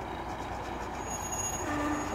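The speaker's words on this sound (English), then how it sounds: "And there's the diesel train." A diesel train in Virginia City, Nevada, gives a steady low rumble with faint wheel squeals, heard from a moderate distance, with no one speaking.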